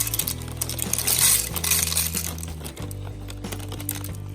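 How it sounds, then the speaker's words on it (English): Hard freeze-dried potato pieces poured into a pressure cooker pot, a steady clattering rattle of many small dry pieces hitting metal, close and continuous for a few seconds over a low hum, with no talk. "Now these are just freeze-dried, hard potatoes. If you've never seen these before, these do have to be reconstituted, which is what all the liquid is for"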